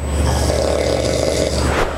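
A man sleeping without an anti-snoring mouthpiece gives off a loud, close, rumbling snore, one drawn-out breath that rasps steadily for about two seconds.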